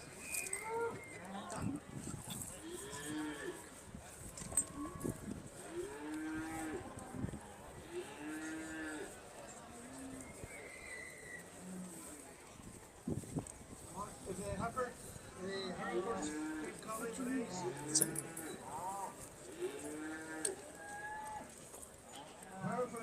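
Aberdeen Angus cattle low repeatedly in a show ring, several drawn-out moos rising and falling across the span, with hoof clatter and a busy background of people talking nearby.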